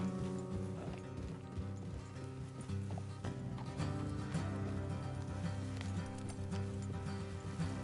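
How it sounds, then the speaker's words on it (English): Horse hooves clip-clop steadily on a road in the Red Dead Redemption 2 video game, a continuous rhythmic trot mixed with game background sound and no clear talking. "Let's leave the horses here and go the rest on foot."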